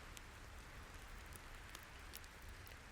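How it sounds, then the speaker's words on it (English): Relentless rain falls as a faint, even hiss with scattered soft drop ticks, steady and unbroken throughout, with no voices present. "That rain is relentless"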